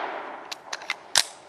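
A Ruger 22/45 MKIII .22LR pistol fires several sharp, light cracks at an outdoor range, three quick shots followed by a louder fourth, with no one speaking.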